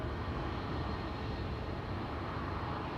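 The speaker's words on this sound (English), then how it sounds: "A321neo coming this way." An Airbus A321neo approaches Amsterdam Schiphol, giving a short, faint, steady jet rumble heard from a distance.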